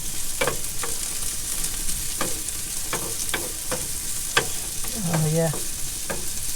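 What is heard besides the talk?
stirring food sizzling in a pan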